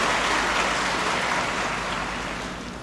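Large graduation audience in a hall clapping together, a thick, continuous wash of applause that fades slightly toward the end.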